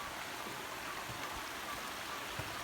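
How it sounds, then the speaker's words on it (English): A tiny creek flowing beneath a log footbridge on the Pacific Crest Trail in northern Oregon, a soft steady trickle and wash with faint splashes, alone. "And it's this tiny little creek."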